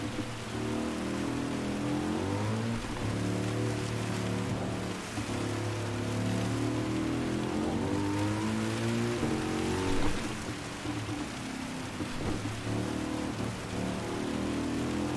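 Rain in a Gran Turismo 7 car race, a steady hiss of rainfall over a continuous droning car engine whose pitch rises and falls with gear shifts, loud and close throughout.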